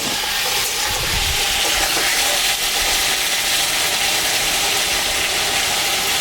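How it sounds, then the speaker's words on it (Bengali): Water is poured into a pan of hot fried-spice curry for a fish and bottle gourd dish, raising a loud, steady sizzling hiss that holds without letup, with no talking. "এটা ভাজা মশলার তরকারি তো, এখন আমি একটু জল দিয়ে দেবো।"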